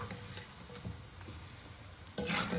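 Bajji fritters frying in a little oil in a small kadai, a soft continuous sizzle with faint stirring clicks, then a louder burst of crackling near the end.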